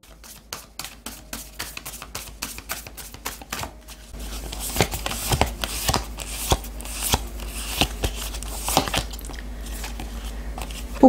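A deck of oracle cards is shuffled close up: a rapid run of crisp, evenly spaced riffling snaps, then a denser, louder stretch of rustling and flicking cards with a low steady hum beneath.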